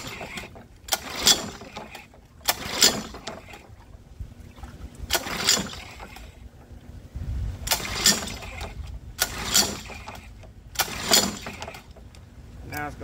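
A Mercury 7.5 outboard motor, unstarted for 14 years, is pull-started again and again: six loud, rasping rope pulls come at a steady rhythm, each a whirring burst with a spluttering rattle, and talk sits in the gaps.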